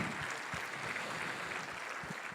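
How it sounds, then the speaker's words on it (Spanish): A church congregation applauds during a worship service, a soft, steady wash of many hands clapping together at a fair distance with no break. "Dale un aplauso fuerte al Señor."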